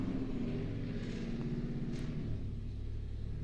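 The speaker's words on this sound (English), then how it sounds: "Y'all hear that truck? Dang, they mashing the gas." A pickup truck fitted with Flowmaster exhausts accelerates hard, its engine revving in a deep, continuous rumble that holds steady at moderate distance, then drops to a lower, steadier drone partway through.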